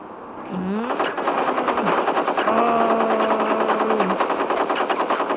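Rapid automatic gunfire in the video game Gangstar Vegas, loud close rattling bursts sustained over several seconds alongside a rising engine-like whine.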